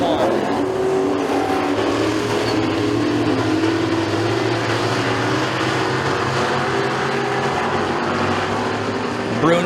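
Pure stock race cars roar around the track at McKean County Raceway during a feature race, a dense continuous engine drone mixed with crowd ambience and a commentator talking over it.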